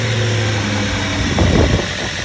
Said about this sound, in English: Can you fire the car up,